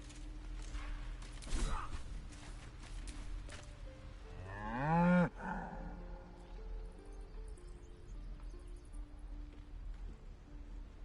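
A cow in Baldur's Gate 3 gives one long, rising moo partway through, heard over a quiet ambient background.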